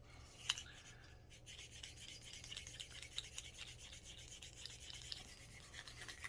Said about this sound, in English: I'll use this wire brush on the ramp for the cartridges as well